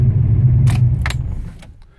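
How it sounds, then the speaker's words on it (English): A turbocharged Ford Fox-body Mustang is switched off, its low engine rumble running steadily then fading out near the end, with brief key-like jingles and clicks over it and no talk. "So we're going to go ahead and kill the car."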